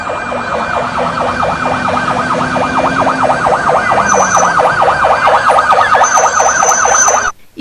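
A fire truck siren sounds during a school fire drill at a high school in Iskenderun, Turkey. The loud, close wail yelps in rapid, steady up-and-down cycles and stops abruptly at the end.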